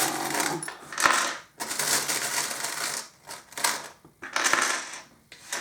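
Small charms shaken in the hands and tossed down during a tarot-style love reading, making repeated bursts of bright metallic jingling and clattering, close and fairly loud, with brief pauses between handfuls and no voices.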